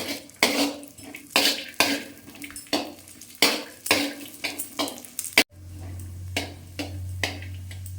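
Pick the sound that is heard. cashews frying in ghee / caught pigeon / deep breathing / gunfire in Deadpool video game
cashews frying in ghee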